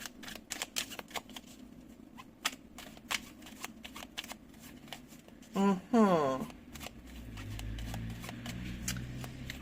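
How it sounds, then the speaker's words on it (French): Tarot cards being shuffled and laid out during a reading, heard as a short riffling burst of card flicks in the middle, with quieter handling taps around it. "Le 9 de coupe. Que je vais recouvrir."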